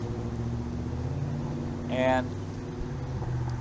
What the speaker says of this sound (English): please excuse all the traffic noise